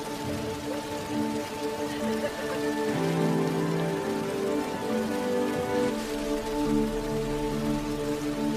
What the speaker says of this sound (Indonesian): Hingga tiba-tiba hujan mulai turun